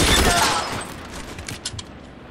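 Rifle fire in L.A. Noire: a loud burst of shots at the start fades away, then a few fainter, scattered shots follow near the end, with no talking.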